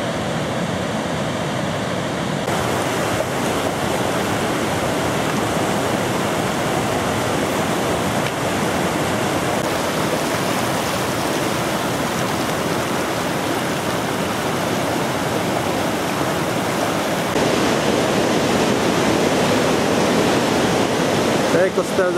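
A steady, loud rush of flowing water fills the whole stretch, broad and constant like a river churning close by.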